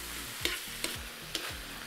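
Beef sizzling over the highest heat in a wok for lo mein, with steady frying hiss broken by three sharp scraping stirs at regular intervals.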